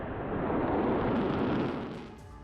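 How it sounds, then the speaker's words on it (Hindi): A broad, roaring blast of noise from an Iranian ballistic missile strike on Tel Aviv, swelling and rumbling for about two seconds before tapering off, loud and continuous with no talk. "हमले के बाद धमाके की आवाज सुनाई दी और इलाके में आग लग गई"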